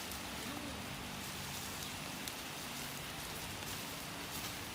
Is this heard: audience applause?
no